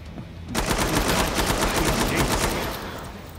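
Rapid automatic rifle fire in a video game boss battle, a dense rattling burst that starts abruptly after a quiet half second and runs steadily for about two and a half seconds before easing off.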